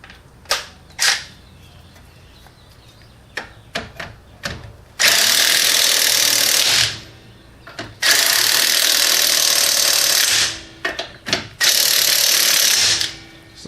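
Pneumatic impact gun tightening front suspension bolts on a Lexus ES300 during a suspension rebuild with Tein springs, in several loud buzzing bursts of a few seconds each, separated by sharp clicks and clanks.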